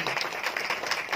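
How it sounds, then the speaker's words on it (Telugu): An audience claps at a church gathering, a short, fairly quiet burst of steady applause with no voices over it. "గట్టిగా చప్పట్లు కొడదాం అవుతుంది."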